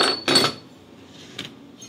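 Aluminium pan handled in a kitchen, two quick close metallic clinks up front, then a fainter clink and a light tap in quiet surroundings.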